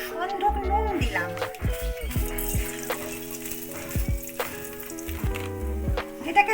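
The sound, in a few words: garlic paste and rock salt frying in oil in a pan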